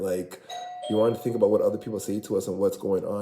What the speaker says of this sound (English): See, that's my doorbell.